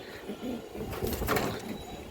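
A male pigeon at a breeding farm gives soft, low, rolling coos in short repeated bursts, close by with no talk over them.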